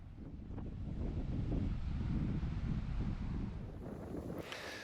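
Strong, steady wind buffets the microphone at Sakalava, a kite surfing bay on the northeastern tip of an island, with a continuous low roar and possible surf beneath, easing slightly toward the end.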